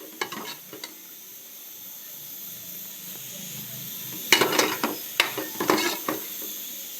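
Masala for prawn biryani stirred in a frying pan: a soft, steady sizzle with scraping stir strokes, growing busier toward the end.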